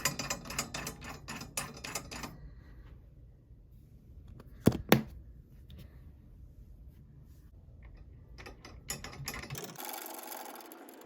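Drum lug tension rods are turned in a series of close, rapid ratcheting clicks and rasps. A quiet gap with a couple of sharp knocks follows, and then the turning resumes.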